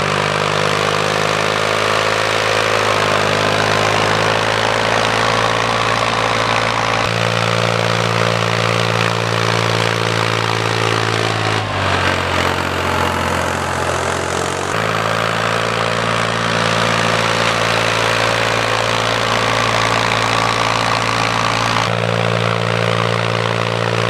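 A tractor pulls a disk through corn residue in a field, its engine droning loud and steady with a deep, continuous rumble that shifts pitch slightly midway and carries on without pause.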